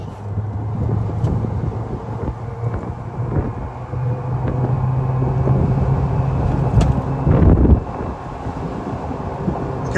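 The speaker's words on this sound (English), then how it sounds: "You kind of get a little bit of that AC motor whine noise that I love." A 2025 Vibe EV Flex 4 street-legal electric golf car drives uphill, its AC motor giving a steady low hum with a faint whine, mixed with wind buffeting the microphone and a brief louder rush near the end.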